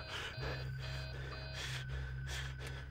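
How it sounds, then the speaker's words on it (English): Heavy, hollow breathing from the Five Nights at Freddy's 3 video game rasps in slow repeated pulses over a low droning hum, loud and close, with no talking. "What's with all the breathing?"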